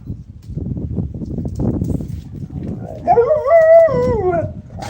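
A pet dog growling and grumbling low, then breaking into a loud, close, wavering howl near the end, heard alone.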